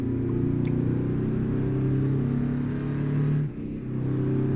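A heavy-haul truck in American Truck Simulator runs steadily under load, its engine giving a sustained droning hum with a brief dip near the end as it shifts, then picking back up, close and fairly loud with no talk.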